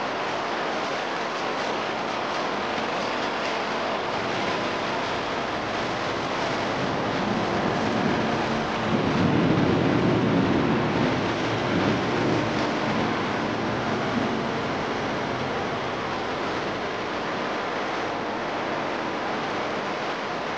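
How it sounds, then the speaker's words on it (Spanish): Piñiscocha river rushing through a canyon near Canchayllo, Jauja, a steady broadband roar of water that swells slightly midway and continues unbroken for about twenty seconds, with no voices. "El canto del río Piñiscocha nos anuncia que la tarde ya nos alcanzó"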